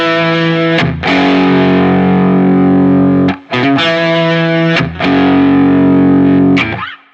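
Heavily distorted electric guitar chords through a single-coil pickup ring out loud and sustained, with brief gaps between strums and a thick, buzzing tone.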